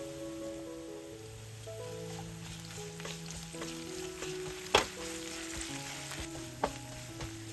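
Dried chillies, kasuri methi and curry leaves sizzle steadily in hot oil for a tempering, a dense continuous crackle with a couple of sharper pops and a faint background hum.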